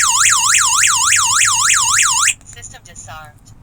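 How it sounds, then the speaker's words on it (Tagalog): A DIY home alarm system siren wails loud and close in rapid, repeating up-and-down sweeps, about seven cycles, then cuts off abruptly, leaving quieter room noise and faint warbling. "Speaking of alarm, so ipaparinig ko yung tunog ng alarm niya."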